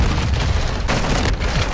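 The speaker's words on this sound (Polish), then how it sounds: "Jest, celny strzał, mamy to." Gunfire from Call of Duty MW2 beta sounds as a series of heavy, booming shots over dense rumbling game noise, with a couple of sharper blasts standing out.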